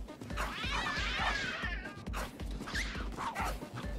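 A cat yowls and meows in the video game Tokyo Jungle, a few wavering, drawn-out cries over a steady thumping game soundtrack, fairly clear and close.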